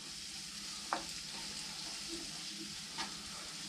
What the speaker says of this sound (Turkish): Ondan sonra maydanozlarla birlikte karıştırıyoruz.